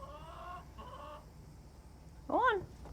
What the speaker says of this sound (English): You ever seen a chicken?